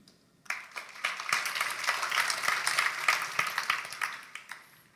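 Church congregation clapping hands together during a sermon, a dense burst of applause that starts suddenly, holds steady for a few seconds, then tapers off, moderately distant with little speech.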